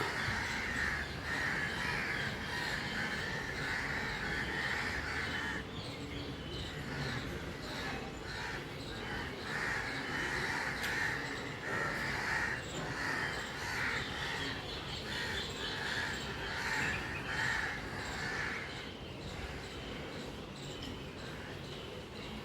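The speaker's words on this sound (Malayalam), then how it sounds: "കാക്കകളൊക്കെ വട്ടമിട്ട് പറക്കുന്നുണ്ട്" Crows circle overhead outdoors, cawing repeatedly in a faint, continuous chorus at a distance, with scattered calls overlapping throughout.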